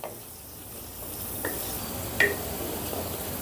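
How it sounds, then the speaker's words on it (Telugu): Sliced onions fry in a pan for mint rice, giving a soft, steady sizzle with a few faint utensil taps, heard close and with no talking. "ఈ ఉల్లిపాయ ముక్కల్ని బ్రౌన్ కలర్ వచ్చేంత వరకు ఫ్రై చేసుకుందాం"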